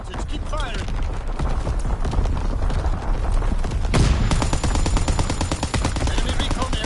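Gunfire from a PS4 video game, dense rapid automatic bursts layered over one another and continuing loudly throughout, with game voices heard in the mix.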